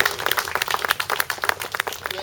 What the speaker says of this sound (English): why don't we all give a round of applause just for showing up here